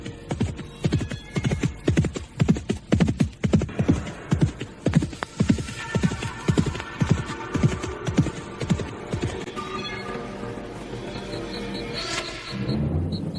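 Horse hooves gallop at speed in an audio drama, a steady run of loud clip-clop beats drawing close then easing off, with a whinny and faint tonal music rising near the end.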